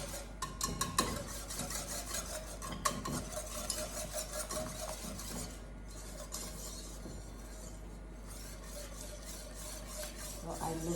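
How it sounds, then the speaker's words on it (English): Sauce being whisked in a pot for chicken and bacon mac and cheese, with a steady metallic scraping and stirring and occasional clinks of utensils against the pan, close and moderately loud. "just make sure that you whisk in one direction"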